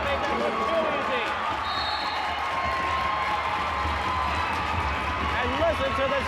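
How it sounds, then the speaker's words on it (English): High school girls basketball crowd in a gym during Cretin-Derham Hall vs. St. Paul Central, a steady murmur and cheering with ball bounces and sneaker squeaks, under continuous commentary. "listen to this crowd"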